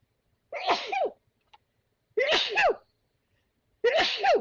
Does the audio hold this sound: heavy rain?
no